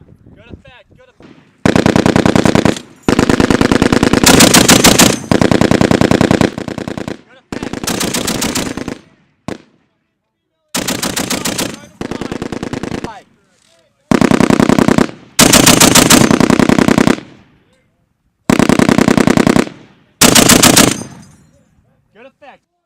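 Bursts from a US military machine gun firing on a range, several long loud strings of rapid shots separated by short pauses, with brief spoken range commands in between.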